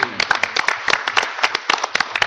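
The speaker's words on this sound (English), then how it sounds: "Let's give them a round of applause." Short burst of audience applause at an ITU workshop on the future of cable TV, a quick run of uneven claps from a modest crowd with some voices mixed in, over about two seconds.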